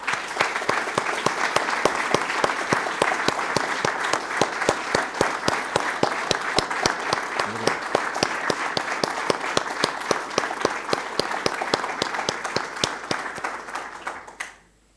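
Sustained warm applause from a large audience at a formal academic year opening ceremony, steady dense clapping filling the hall for about fourteen seconds before fading out.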